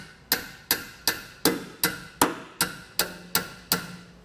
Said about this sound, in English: I'm going to take a hammer and just bend this tab back flush